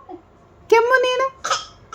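A child imitates an elderly grandmother's cough with a short voiced, hiccup-like burst followed by a brief harsh cough, close and fairly loud against a quiet background.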